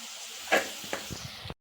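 Vegetables sizzle in a pan after salt is added, giving a brief, soft hiss with a few faint stirring scrapes.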